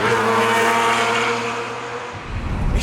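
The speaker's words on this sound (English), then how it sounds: "I'm driving a V12 Lamborghini with a nice manual manly gearbox" A V12 Lamborghini Murcielago with a manual gearbox, its engine droning loud and close at a steady pitch, then easing off before a rising rev at the end.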